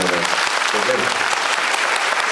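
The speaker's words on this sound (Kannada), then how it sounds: "ಒಂದ್ಸಲ ಚಪ್ಪಾಳೆ ಹೊಡೀರಿ ನೋಡೋಣ" An audience at a state-level Vishwakarma community gathering in Karnataka breaks into steady, dense applause, loud and close, holding evenly for its full length.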